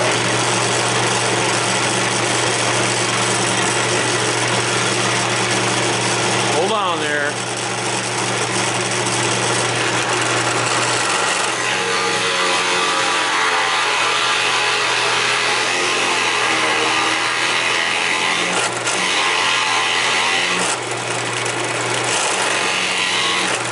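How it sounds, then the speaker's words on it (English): A power drill runs loudly and continuously boring a row of holes through clamped material for a fishing rod holder, its whine rising and falling as each hole is cut, with a voice faintly under it. "we're just going to go through the drilling of all these holes"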